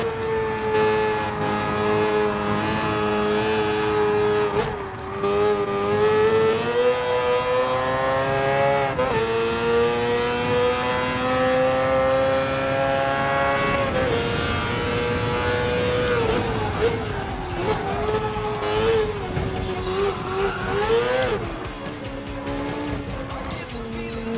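Race cars in Gran Turismo Sport, including a black Mazda 787B, roaring at high revs with a sustained engine whine that rises and falls through gear changes and corners, loud and continuous, with other cars joining near the end.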